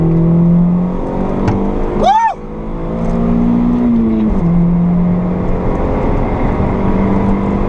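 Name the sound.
Honda Civic ED7 accelerating on a race circuit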